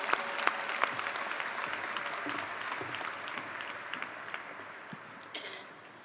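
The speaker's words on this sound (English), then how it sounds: "Please applaud these students for their involvement in our performing arts program." Audience applause for performing arts students at a high school graduation ceremony, a steady wash of clapping with a few sharper near claps, sustained throughout at moderate level.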